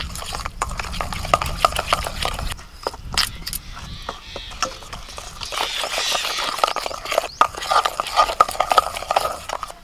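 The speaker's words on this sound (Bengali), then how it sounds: "এবার ভালো করে দইটাকে ফেটিয়ে নেব।" Yogurt mixed with sugar, baking soda and baking powder is beaten hard in a bowl, giving a run of quick clinking, sloshing strokes with a brief pause before the whisking resumes at full pace.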